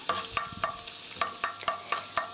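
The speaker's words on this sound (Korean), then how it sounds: "마늘을 살살 볶아주시고요." Garlic sautéing in a pan for a cheese hamburger steak, a steady close sizzle broken by regular sharp scrapes of a utensil against the pan, roughly every quarter second, with no talking.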